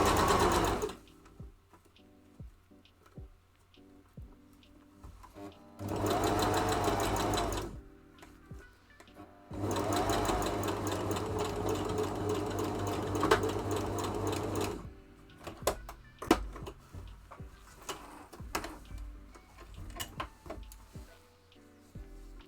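A sewing machine stitches shorts in two sustained runs of rapid mechanical chatter, each several seconds long and close, separated by quiet handling clicks and ticks as the fabric is adjusted.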